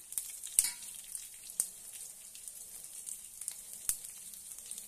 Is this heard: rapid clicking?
no